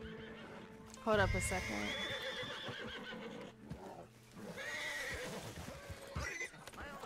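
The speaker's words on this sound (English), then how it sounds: "They got horses here." Horses neigh loudly and hooves clop in a video game, with several voices talking over the animal sounds.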